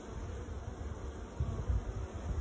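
A swarm of bees in a box, about to be moved into a hive in Canada, buzzing as a continuous low drone, fairly quiet and close, with no voices.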